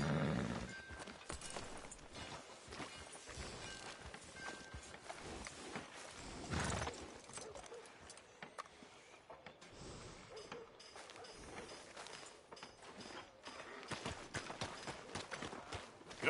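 Horse hooves in Red Dead Redemption 2 clip-clop at a steady walking pace, faint and distant, with a brief louder burst partway through and light ambient noise around it.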